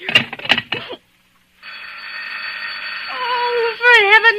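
In a radio drama, a telephone rings with a sustained electric bell tone that swells and warbles near the end, coming after a woman's brief agitated speech and a short silence.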